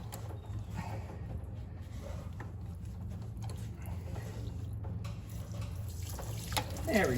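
Coolant from a 2008-2012 Chevy Silverado 1500 truck drains into a drip pan after the water pump is removed, a steady faint trickle and patter under a low mechanical hum.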